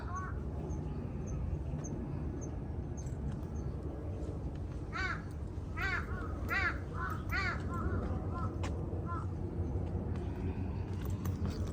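Several ducks quack in a quick cluster midway, loud and nasal, over a steady rumbling background of distant traffic.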